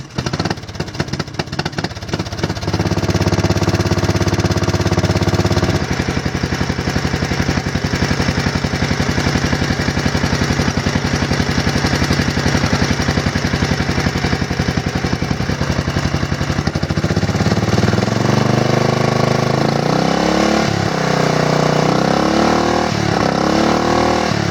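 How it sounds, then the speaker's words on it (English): A lawn mower engine fitted with a new carburetor cold-starts with a few sputtering pulls, then roars into a loud, steady idle that runs continuously and close up, shifting pitch slightly near the end. "Cold start, new carburetor."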